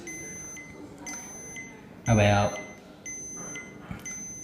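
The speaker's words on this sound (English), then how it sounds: "And then there comes the beeping sound from the BLE gadget." A BLE anti-loss gadget gives a series of short, high, evenly spaced electronic beeps, quiet and close, while someone speaks briefly over them.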